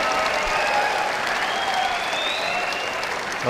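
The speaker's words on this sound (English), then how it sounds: "crowd goes wild." A crowd cheers and applauds loudly and continuously at the WSF Men's World Team Squash Championship final between Egypt and England, with a roaring wash of clapping and some whistling.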